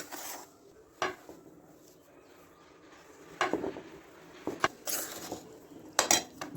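Besan laddu mixture with sugar and cardamom powder gets stirred in a metal bowl, a few sharp clinks and scrapes of spoon against metal breaking up long quiet stretches, close and fairly soft.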